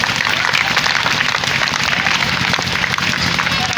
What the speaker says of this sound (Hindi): आप सब जोरदार तालियों से स्वागत करें